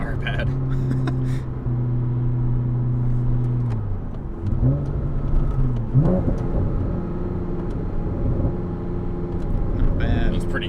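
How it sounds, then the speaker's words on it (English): A Porsche Cayman S 987 fitted with an aftermarket exhaust hard-mounted to the chassis runs with a steady low engine tone and a shift in pitch midway, burbling throughout with voices talking over it. "It's not super like droney. It's got some fucking burbles though."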